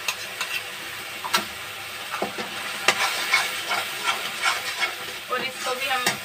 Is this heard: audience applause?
no